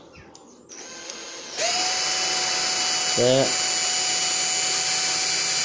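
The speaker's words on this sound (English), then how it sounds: "We're drilling a hole today." A power drill bores a hole through a KLX 125 motorcycle number plate: the motor whines up to a steady, loud high-pitched drone after a brief start, holding to the end, with a short spoken word over it.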